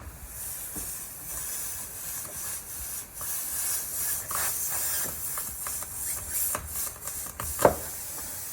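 A steady, faint hiss of air escapes from a punctured tire around a lodged screw, with light scattered clicks and a brief knock near the end.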